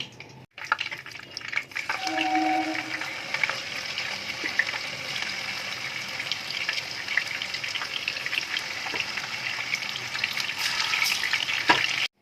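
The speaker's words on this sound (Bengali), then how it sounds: "এইভাবেই প্রত্যেকটা জিনিস এখন আমি ভেজে নেব।" Chicken seekh kebabs fry in a pan of hot oil, giving a steady, loud sizzle that runs nearly unbroken from start to finish, with an occasional faint clink of utensils and no talking.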